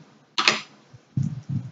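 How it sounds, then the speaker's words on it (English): A few quick key clicks on a Bluetooth keyboard, a bright sharp burst followed by two softer, duller taps, close and alone in a quiet room. "we're going to use our Bluetooth keyboard to search"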